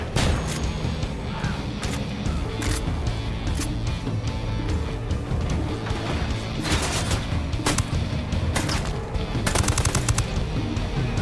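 Dense automatic and rapid gunfire in a Ghost Recon Wildlands firefight, with sharp repeated bursts and crashing impacts layered over continuous battle noise at high, steady loudness, intensifying toward the end.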